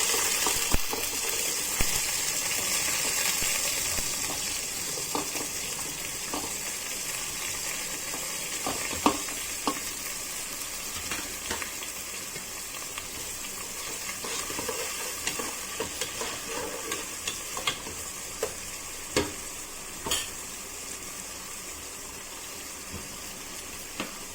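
A dried red chili and chopped onions fry in a pan, a constant close sizzling hiss broken by sporadic sharp clicks and spoon taps against the metal.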